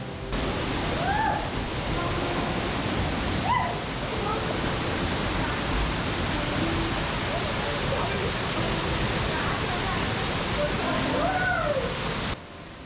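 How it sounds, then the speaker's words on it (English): Ermayi Falls, a 75-foot multi-layered waterfall near Ujire in Belthangady, sends foamy water sliding over rocky ground into a pool. A steady, loud rushing roar fills the whole stretch without pause. "From a height of 75 feet, thick water that like foam slides down the rocky ground, forming a pool at the base."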